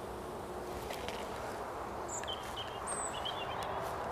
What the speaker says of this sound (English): There are bees coming back with pollen.